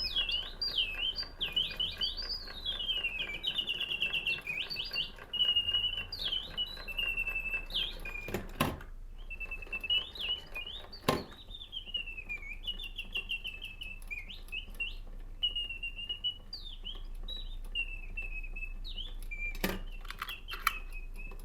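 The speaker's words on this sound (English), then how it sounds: "singing birds were made in these wonderful cages" A French automaton singing bird in a cage gives a long run of mechanical whistled chirps and warbles in repeated phrases, with a few sharp clicks from the mechanism between trills, fairly faint and alone.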